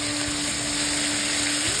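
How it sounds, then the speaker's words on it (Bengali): Water poured into a pan of fried spices and potatoes for a Bengali aar fish curry, giving a short, steady, dense hiss with no pauses and no voices. "কষানো হয়ে গেছে, এবার আমি জল ঢেলে দিচ্ছি"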